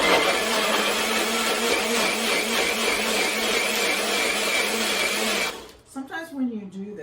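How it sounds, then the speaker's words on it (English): Kitchen blender whirring loud and steady as it purees plums and a chocolate mixture, running continuously for several seconds before cutting off, followed by a brief voice. "We're going to blend this up."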